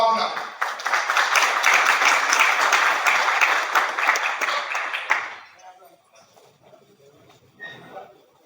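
Audience applause welcoming a speaker at a technical counseling meet, loud and sustained for about five seconds, then dying down into scattered claps and quiet room noise.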